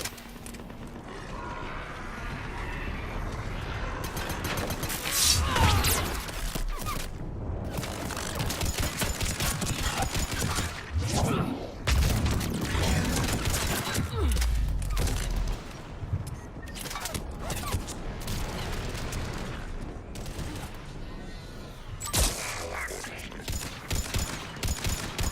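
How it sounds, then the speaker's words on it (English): Artillery barrage in Mass Effect 3, a sustained battlefield din of booming blasts and rattling gunfire running throughout, with a voice speaking over part of it. "There's the artillery."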